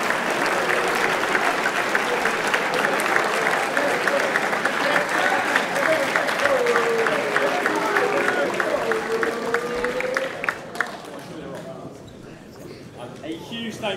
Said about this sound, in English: So a huge round of applause and thank you, Sir Ralph.